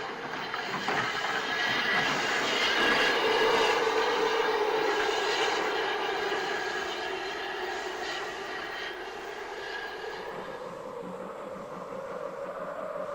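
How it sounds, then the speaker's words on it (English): Caledonian Railway steam locomotive No. 123 coasts into a station loop on a gale-swept Highland line, giving a loud, steady broadband rumble and rush of wheels and wind that eases slightly over the final seconds. "Number 123 makes a stunning spectacle coasting into the station loop."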